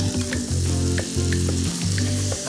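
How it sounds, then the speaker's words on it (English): Black beans mashed with chorizo in a hot frying pan, a loud, close, continuous sizzle with rhythmic pressing and scraping strokes of the masher, no voices. "I'm mashing them with the chorizo."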